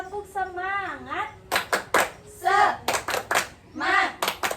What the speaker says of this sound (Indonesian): Nah, sebelumnya, tepuk semangat.